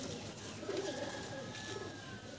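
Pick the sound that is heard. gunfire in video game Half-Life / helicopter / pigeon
pigeon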